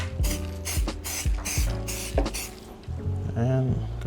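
A spray can applies a second coat of rust effect paint to a vase, in a run of short, loud hissing bursts in quick rhythm, close by. A voice talks faintly beneath the spraying.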